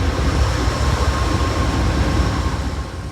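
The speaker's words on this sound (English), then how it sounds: "It's a pretty long train." A long eight-coach Amtrak passenger train in Florida rolls past. It makes a steady, loud rumbling roar with a faint whine above, holding even and then easing slightly at the end.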